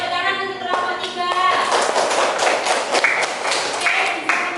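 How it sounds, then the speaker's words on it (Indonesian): Scattered classroom clapping for a student group after their presentation, moderately loud with uneven claps and light thumps, mixed with a teacher's voice and some tonal background sound. "Tepuk tangan untuk kelompok 3"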